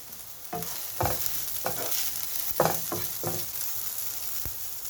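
Onions sautéing with green chilli and curry leaves in a pan, a steady sizzle broken by several sharp stirring scrapes and knocks of a spatula at irregular intervals.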